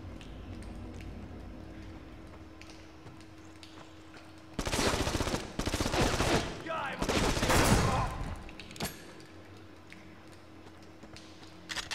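MP5 gunfire in the PS2 shooter Black comes as loud, dense automatic bursts over about three seconds midway, set against a quieter game soundscape with faint background talk.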